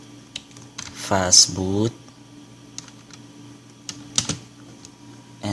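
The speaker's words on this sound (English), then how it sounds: "And now we're going to type" Sparse keystrokes clack on a computer keyboard at close range during an LG K10 phone rooting session, a few isolated taps spread across the stretch with a short burst of spoken words in the middle.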